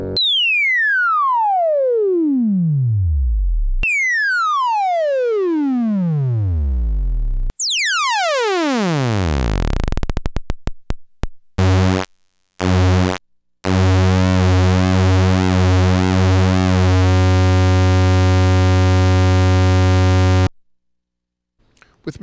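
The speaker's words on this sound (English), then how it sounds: "This gives Big-O's sine, triangle, saw, and square waves a special sonically rich and warm fundamental sound that's like no other" A Big-O analog VCO oscillator plays its sine, triangle, saw and square waveforms: two sweeping downward tone glides, a fast dense sweep, then choppy gated buzzy tones and a held rich square-like drone before it cuts off.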